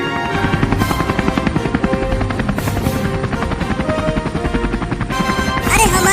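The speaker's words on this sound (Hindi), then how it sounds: "अब हेलीकॉप्टर ही मुझे वहां जल्दी पहुंचा सकता है।" Cartoon helicopter in a village scene, a loud rhythmic rotor chop that thumps steadily and close throughout, with brief whooshing swells along the way.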